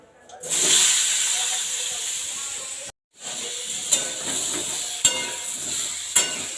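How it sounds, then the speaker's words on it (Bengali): Cut potatoes fry in hot oil for a Bengali egg curry, a loud steady hiss and sizzle that drops out for a moment midway, then returns with a few sharp clinks and scrapes. "কেটে রাখা আলুগুলো ভেজে নেব।"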